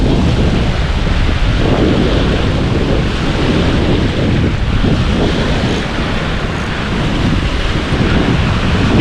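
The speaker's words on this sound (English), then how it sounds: "You think this was at a beach or something like that, but it's size of these waves." Large waves crash continuously under strong, steady wind buffeting the microphone at a lake during a windy pike fishing outing, with a dense, roaring surge and no voices.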